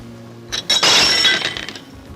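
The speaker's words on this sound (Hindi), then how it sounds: "ये प्याले कैसे टूट गई?" Cups break with a sudden loud crash of shattering ceramic, followed by scattered tinkling pieces that fade quickly, close by and with no talking.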